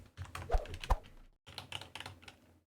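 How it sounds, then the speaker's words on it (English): Computer keyboard keys clatter in two quick bursts of typing during a Cook, Serve, Delicious! 3 session, close and fairly loud with a short pause between runs. "I pressed 8 and then did the typing and then set it to cooking and then pressed 8 again"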